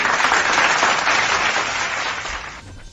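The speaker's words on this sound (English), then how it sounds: "let's give a little applause here for the Leap motion controller" A crowd applauds a Leap Motion controller reveal, dense clapping filling the space evenly before tapering off near the end.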